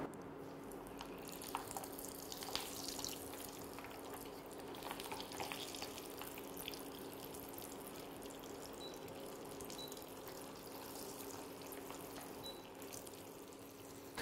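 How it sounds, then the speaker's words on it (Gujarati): Angoori kofta frying in hot oil during a Gujarati cooking competition, a steady close sizzle and crackle with light stirring and bubbling that runs without a break. "હવે આપણે એક એક કરીને અંગુરીને તળી લઈશું."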